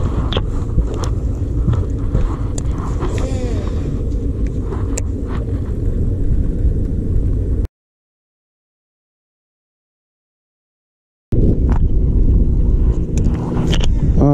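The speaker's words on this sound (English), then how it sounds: "The wind's been getting higher and higher here, and it's blowing down in this little cove right off the main lake here." Wind gusts blowing across a small cove off a main lake roar steadily into the microphone with low rumbling buffeting, broken by a few seconds of silence before resuming just as loud.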